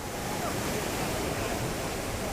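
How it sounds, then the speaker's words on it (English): Whitewater rapids on the Nile River, a dense continuous roar of rushing, churning water that stays steady and loud throughout, with no voices. "Way bigger rapids and not so many rocks, so super fun."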